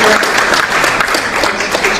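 A crowd applauds briefly at a 2009 debate between Christopher Hitchens and David Wolpe, a dense, even burst of clapping close up.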